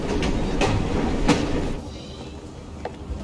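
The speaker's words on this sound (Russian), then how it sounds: "Ну, зато теперь у нас есть поезд." A train in the video game Assassin's Creed Syndicate rumbles steadily, with a broad rolling roar and faint rhythmic clacks that ease off partway through, with no voices over it.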